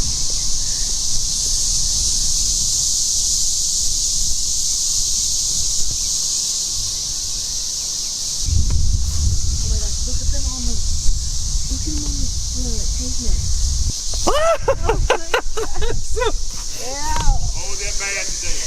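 A loud swarm of cicadas in a tree outdoors drones continuously as a high, steady buzz throughout, while people talk over it in the second half.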